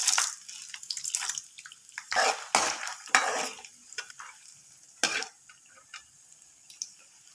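Mustard seeds, cumin, chana dal and urad dal splutter and crackle in hot oil while tempering for hotel-style puliyogare. Soft, close, irregular sizzling pops come in scattered bursts.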